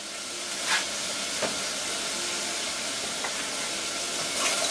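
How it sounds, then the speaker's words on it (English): Steady, bright hissing and steaming rise from a pot of green beans with potato and spices as it comes to a boil, with a few faint clinks and bumps over the continuous hiss and no talking. "Hear that come up to a boil instantly."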